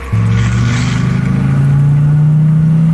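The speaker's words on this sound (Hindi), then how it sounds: "जैसे ही वो गाड़ी चलाने लगती है" A cartoon car engine starts up and pulls away, a loud steady motor hum rising slightly in pitch as it begins to drive, close and alone.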